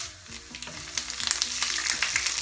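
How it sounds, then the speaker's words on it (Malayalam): Cut dried red chillies drop into hot oil where mustard seeds have just finished popping, setting off a faint, crackly sizzle with quick sputtering pops that run throughout, with no voices over it. "അതിലേക്ക് നമ്മൾ വറ്റൽമുളക് മുറിച്ചെടുത്തത് ഇട്ട് കൊടുക്കുകയാണ്."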